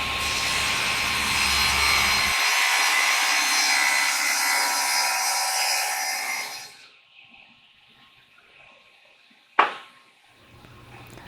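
A power tool cuts a channel in an oak box for its plywood base, giving a steady, loud whine of rasping wood for several seconds that then winds down, followed by quiet and one sharp knock near the end.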